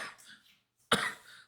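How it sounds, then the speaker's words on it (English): A single sharp cough sounds close to the microphone after a brief pause, following softer voice-like sounds at the start. "Let me cough a little bit."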